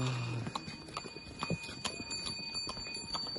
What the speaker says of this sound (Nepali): घोडा आइरहेछ